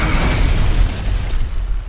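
A loud, booming explosion from the Firestarter movie trailer rolls out as a heavy low rumble with a burst at the start, fading slightly over two seconds, with no talking.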